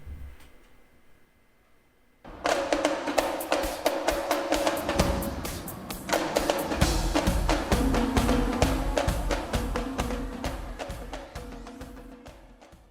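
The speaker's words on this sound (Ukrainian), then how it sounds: "Це барабан. Як звучить барабан в музиці?" After a quiet start, a loud run of rapid drum hits begins and keeps going in a steady, dense rhythm with clear accents.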